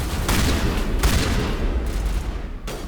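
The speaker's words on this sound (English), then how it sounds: "Shotgun." Repeated shotgun blasts from a Mass Effect firefight, heavy booming shots landing about once a second over continuous loud battle noise and rumble, with no talking.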